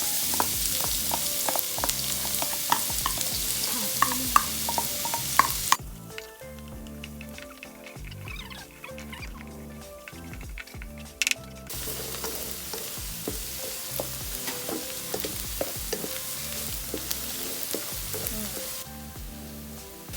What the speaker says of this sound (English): When frying your fried garlic, the trick here is to constantly stir